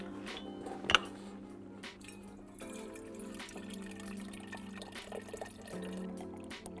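Water runs steadily into a vessel, filled nearly to the surface, before boiling, a soft continuous trickle with a gentle rising pitch as it fills, after a brief clatter near the start.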